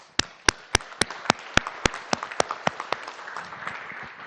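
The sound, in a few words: council meeting audience applause for veterans' families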